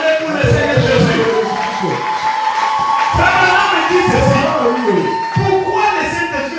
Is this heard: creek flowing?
no